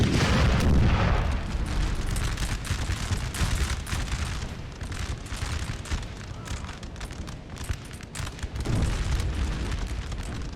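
Booming cannon volleys from artillery pieces in the Napoleon: Total War video game, a dense continuous barrage of deep blasts and crackling musket-like fire, loud throughout with heavier bursts at the start and near the end.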